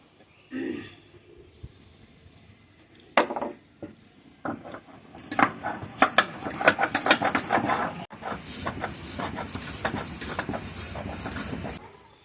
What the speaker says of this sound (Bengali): এই আদাটা বেটে নেব, আদাটা ভালো করেই বাটবো।